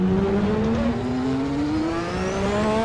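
A Lotus 98T race car spins out in the Assetto Corsa racing game, its loud, close engine droning steadily, dipping in pitch mid-spin and then climbing again.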